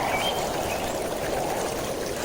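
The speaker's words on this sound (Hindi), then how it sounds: "ठंडी हवा के साथ पानी की लहरें धीरे धीरे किनारे से टकरा रही थी" Cartoon-style pond water waves lapping gently against the shore, a steady, soft, continuous wash of water with no talking.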